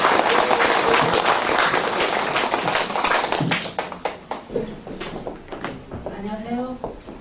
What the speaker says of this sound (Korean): 힘찬 박수 다시 한번 부탁드리겠습니다